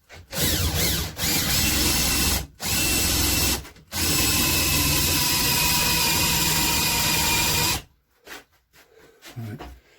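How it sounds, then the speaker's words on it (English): A power drill bores into a rusty old bill hook in loud bursts: two short runs, then a long steady whine of about four seconds that stops abruptly, followed by quieter handling noises. "As far as the drill can go."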